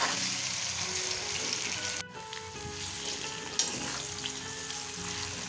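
Pieces of taro fry in hot oil with a steady, bright sizzle. Brief clatters of stirring break through the constant crackle, and no one speaks.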